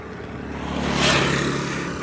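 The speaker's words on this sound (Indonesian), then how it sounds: "Ini mungkin suara saya terganggu sama suara angin." Strong wind buffets a microphone outdoors during a drone flight, a loud broadband rush that swells toward the middle and stays steady to the end, with no voices.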